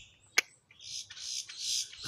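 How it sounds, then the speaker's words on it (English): A woodpecker near a backyard bird feeder gives a sharp single call, followed by a run of high chattering calls at moderate distance, with no talk. "That's a woodpecker making that noise."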